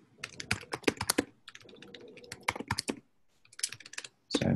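Rapid typing on a computer keyboard whose keys add unwanted characters, dense clusters of close clicks in quick bursts separated by brief pauses, with no talking.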